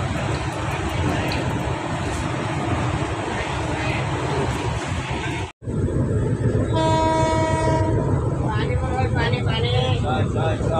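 Inside a train on an overnight journey, a steady loud rumble of the running carriage fills the scene, broken by a short gap, after which a train horn blares with strong harmonic tones while voices are faintly present.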